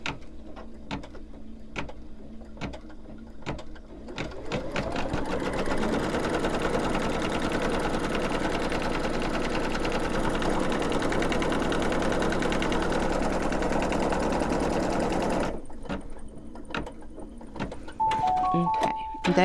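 An embroidery machine stitches fabric for a snowman mug rug, a loud, fast, continuous mechanical chatter lasting about ten seconds, with scattered clicks and taps before it and a short electronic beep near the end.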